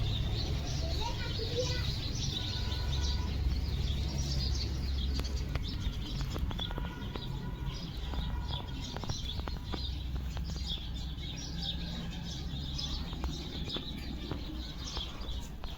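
Pigeons in a loft in Chikhli, Maharashtra, give soft low coos mixed with light chirps and scattered rustling. The sound carries at moderate level through the whole stretch with a faint voice now and then.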